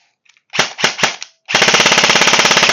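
A Golden Eagle M4A1 electric airsoft gun firing on its original battery: three sharp separate shots, a pause, then a rapid full-auto burst of evenly spaced cracks, loud and close with no talk.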